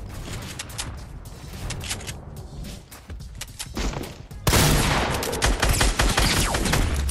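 Rapid bursts of Fortnite gunfire crack loud and close, dense volleys that thin briefly before a heavier, harsher barrage erupts in the second half.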